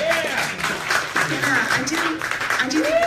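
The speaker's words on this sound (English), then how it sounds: "Applaud that," Audience at a shred guitar panel discussion clapping in a scattered, moderately loud burst, with voices and whoops mixed in over the applause.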